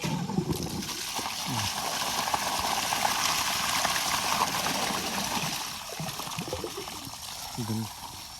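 Rainwater pours and splashes steadily nearby, a continuous rushing spatter, with a person speaking briefly over it toward the end.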